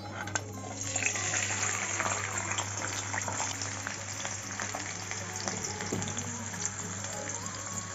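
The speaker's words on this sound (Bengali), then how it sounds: "এবার সব সবজিগুলি ভেজে নেব।" Chopped carrots fry in refined oil in a wok with a steady, close sizzle and occasional stirring scrapes over a low constant hum, and nobody speaks.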